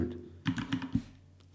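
A password is typed on a computer keyboard in a short burst of five or six quick, close key taps, with a faint hum before and after.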